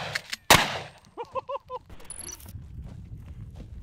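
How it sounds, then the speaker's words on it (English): A slug-loaded shotgun fired from the hip for bear defense goes off once with a sharp, loud blast, then a short rhythmic run of knocking thuds and a faint rustle follow. "They use a slug gun"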